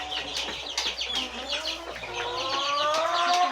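Several Aseel chickens cluck and call close by, a busy overlapping chorus of short clucks and drawn-out calls with no talking.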